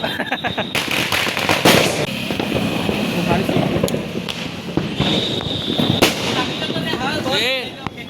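Firecrackers burst in a rapid, uneven series of sharp bangs and crackles close by during Diwali celebrations, with people talking underneath.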